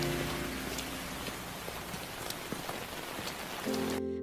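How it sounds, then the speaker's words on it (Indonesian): Light drizzling rain patters steadily outdoors, a dense soft hiss of fine drops with occasional sharper taps on a surface, continuous and moderately quiet throughout. "karena cuacanya gerimis"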